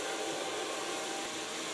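A blow dryer runs close by, drying short hair with a steady, dense, whooshing roar that holds evenly throughout with no speech.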